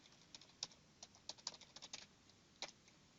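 Light clicking on a computer keyboard while entering a diagnosis into e-prescribing software, scattered soft keystrokes in short bursts, close and fairly quiet with no voices.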